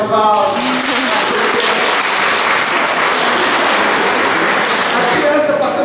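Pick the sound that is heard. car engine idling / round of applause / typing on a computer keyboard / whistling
round of applause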